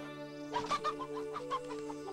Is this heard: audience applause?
no